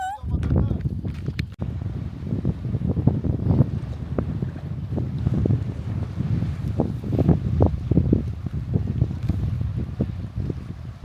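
Wind buffeting a boat at sea off Greece at sunset, with steady loud rumbling gusts battering the microphone throughout and faint splashing beneath.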